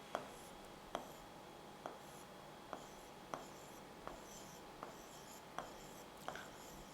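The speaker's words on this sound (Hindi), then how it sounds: "यहाँ लिख दे रहे हैं थ्योरम, इसको और अच्छे से लिख दे रहे हैं।" A geometry theorem is written on a board with a faint, close sequence of short scratchy strokes and taps at a fairly regular pace over quiet room hiss.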